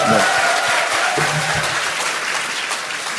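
Loud applause fills a live public podcast taping at a political talk concert, continuous crowd clapping with a few voices briefly calling out near the start.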